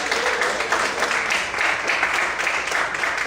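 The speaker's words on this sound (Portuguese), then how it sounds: "Quantos podem aplaudir e glorificar o Senhor por isso?" Worshippers in a church applaud in a continuous, even wash of clapping that stays fairly loud and close from start to finish, with no clear voices over it.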